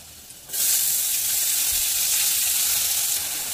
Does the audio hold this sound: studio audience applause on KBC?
no